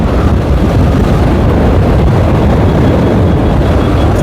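Steady, heavy rumbling buffeting of wind against a microphone during a road bicycle race, loud and continuous throughout with no voices.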